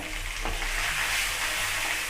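Curry leaves frying in hot oil for South Indian lemon rice give a steady, close sizzle and crackle throughout, with a brief spatter burst near the start and no voices.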